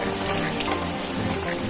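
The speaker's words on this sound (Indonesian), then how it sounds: "Makin gede hujannya guys." Heavy rain falling during a mountain hike on Cikuray, a dense continuous patter of drops on surfaces, close and steady without voices.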